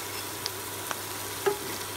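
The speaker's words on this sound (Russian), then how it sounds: "Еще жарится гиграфор 10 минут." Late hygrophorus mushrooms sizzle quietly in a pan with a steady frying hiss, broken by a few soft clicks and taps.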